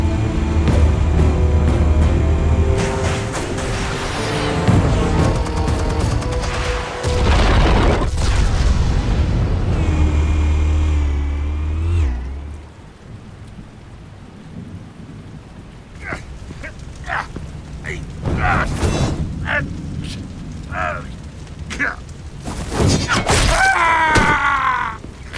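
Explosives detonating in Batman: The Telltale Series, with heavy booming blasts and rumbling low-end through the first half that then cut out to quieter scuffles, sharp hits and a voice or two toward the end.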